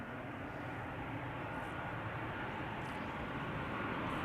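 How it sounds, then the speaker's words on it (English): A Transavia Boeing 737-800 arrives at Amsterdam Schiphol, its engines making a steady, broad roar that holds constant and slightly swells throughout, with no talk. "737-800 arriving from Valencia, flight 6336."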